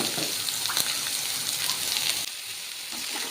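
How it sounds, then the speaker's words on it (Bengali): Long eggplant slices fry briefly in oil for a Bengali fish curry, producing a continuous crackling sizzle that drops slightly in volume partway through, with no talking. "এবার লম্বা করে কেটে রাখা বেগুনের পালি অল্প করে সাঁতলেই এটাকে তুলে নেব।"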